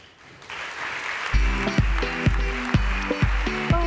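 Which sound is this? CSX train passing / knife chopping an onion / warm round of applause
warm round of applause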